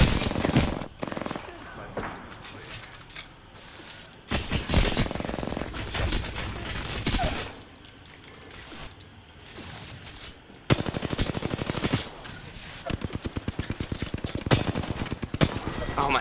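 Apex Legends match: repeated bursts of video game gunfire, chattering automatic shots and loud volleys with short gaps, close and heavy throughout, while players talk over it.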